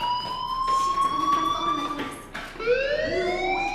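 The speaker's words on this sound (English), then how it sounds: "Hey, do you hear that fire alarm?" Fire alarm going off in the video game Life is Strange, a loud rising and falling electronic wail that sweeps upward again near the end, steady and continuous over background game sounds.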